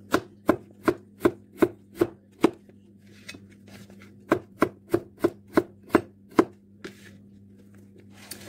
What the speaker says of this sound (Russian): Значит, нарезаю картошку.